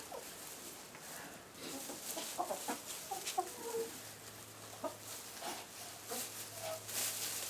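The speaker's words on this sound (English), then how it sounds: "I had the Rhode Island Red, Big Red here" Several Rhode Island Red chickens cluck softly and intermittently at close range, with short scattered calls over a quiet background.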